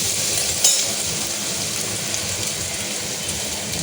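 Onion masala frying in a pan for mutton curry gives a steady, close sizzle with soft stirring scrapes, and one brief clink near the start. Nobody speaks.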